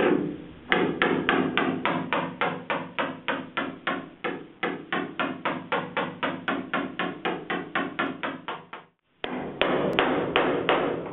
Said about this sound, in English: I'm hammering down my high spots.